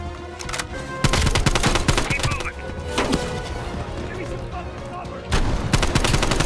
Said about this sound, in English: Oh, using the shotgun, huh?